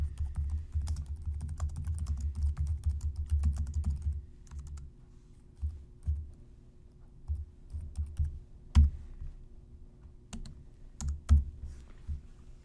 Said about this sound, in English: type in the reason why it's there.